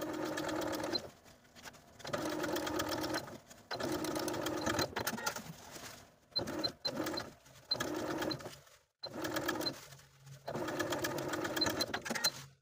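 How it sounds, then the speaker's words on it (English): A sewing machine stitches a garment's facing to its seam allowance down toward a slit. The motor whirs in several close bursts separated by short pauses, with no talk. "we're going to sew the facing to its seam allowance from the top to as far as we can get to the bottom of the slit"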